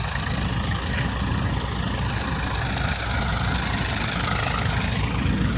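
A farm huller machine runs continuously at a village field, giving a dense, loud, steady mechanical roar with a strong low rumble and no breaks or talk.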